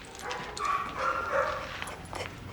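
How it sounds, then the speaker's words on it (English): A dog barks and whines in a courtroom-drama scene, a steady stretch of yelps heard over a constant background hiss, moderately loud with no speech. "You have a dog."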